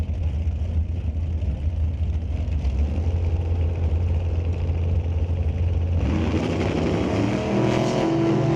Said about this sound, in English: Beautiful wheels up leave for the F body in the left lane. Dragster in the right lane on a rip.